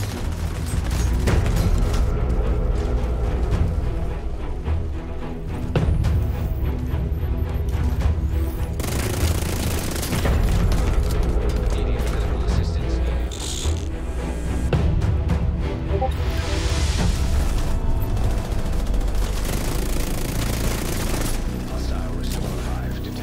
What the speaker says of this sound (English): Shooting people through walls, are we?